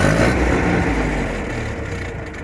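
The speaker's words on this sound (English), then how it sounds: "See how it revs up and not in? Shouldn't do that." Cheap refurbished tractor engine with a badly tuned carburetor, revving loudly up close and then sagging back down, a rough uneven roar that fades somewhat toward the end.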